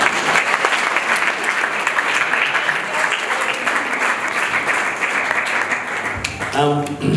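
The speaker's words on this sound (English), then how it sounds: "I think it's another round of applause, all right?" Loud, steady audience applause at a community gathering, a thick continuous wash of clapping that holds for several seconds before a voice begins speaking at the very end.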